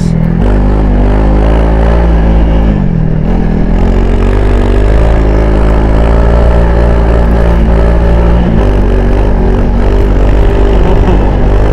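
A Honda CRF300 Rally-Raid dirt bike being ridden, its single-cylinder engine droning loud and close, pitch rising and dipping as the throttle is worked, with mechanical clatter underneath and no speech.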